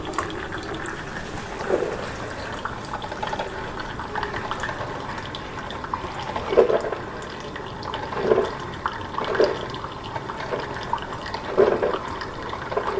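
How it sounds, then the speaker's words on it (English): Soft gurgling and bubbling of a coffee maker brewing coffee at home, with intermittent sputtering bursts over a steady low hiss. "I kind of like the sound of coffee brewing."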